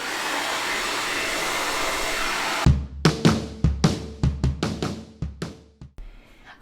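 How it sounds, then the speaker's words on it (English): A blow dryer runs with a steady whooshing hiss over wooden pumpkins, then cuts out and gives way to a string of sharp knocks and clatters at close range. "let's go ahead and put the blow dryer on them."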